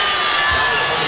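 A basketball arena crowd at the 2009 WNBA Finals Game 3 between the Phoenix Mercury and Indiana Fever roars loudly and steadily after a blocking foul call, a dense wall of cheering and shouting with no break.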